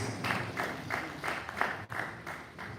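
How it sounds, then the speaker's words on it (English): An audience at a university workshop's official opening session gives a round of applause, a dense patter of many hands clapping steadily for a few seconds, fairly near. "A better round of applause for you, please."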